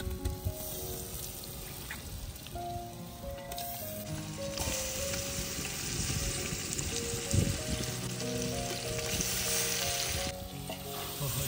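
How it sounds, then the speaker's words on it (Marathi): Chicken frying in spiced masala over a wood fire outdoors, a loud steady sizzle with stirring scrapes throughout, close and continuous. "आपण चिकन टाकून घेतोय मस्तपैकी."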